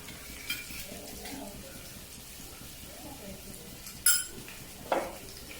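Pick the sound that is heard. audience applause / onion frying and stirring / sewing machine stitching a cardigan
onion frying and stirring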